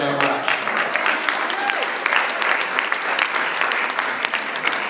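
An audience at a ballot measure debate applauds steadily throughout, a dense, sustained patter of clapping from many hands, with a voice briefly audible at the start.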